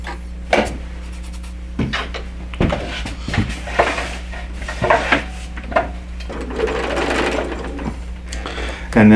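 A sewing machine stitches the last long seam of a Radiant Garden quilt block, running in short bursts with clicks, rubbing of fabric and handling knocks close by.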